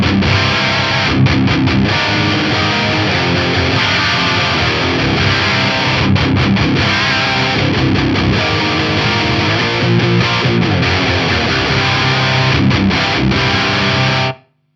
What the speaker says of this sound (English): you've got your lead gain control, which is just going to give you more distortion. So you turn that up and it gets way saturated